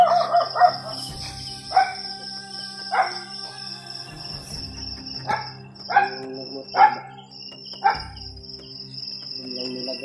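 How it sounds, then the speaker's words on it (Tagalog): Dogs playing outdoors, with several short barks and yelps scattered through the scene against a steady hum of insects and crickets. "Ay, mga aso Brad naglalaro."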